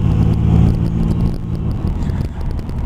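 A Chrysler car on a test drive after repairs, heard from inside: a steady engine drone and road rumble with faint rattles, constant and fairly loud throughout.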